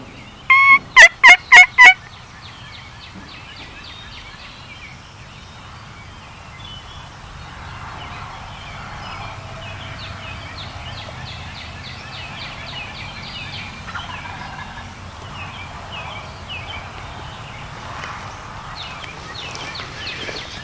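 Wild turkeys gobble from roosts in woods near a field during a spring hunt, distant and faint, with repeated rattling calls under steady outdoor ambience after a brief burst of close sharp clicks at the start.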